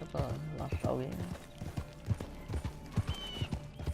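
Horse hooves clip-clop steadily in Red Dead Redemption 2 as a horse walks along, the even rhythm of hoofbeats sitting under someone talking, with a brief neigh early on.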